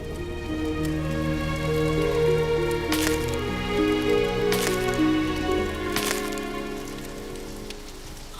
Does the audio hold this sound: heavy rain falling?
yes